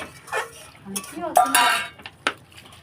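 A spoon scrapes and clinks against a cooking pot of pumpkin leaves and shrimp, a few brief metallic knocks and stirring scrapes close by.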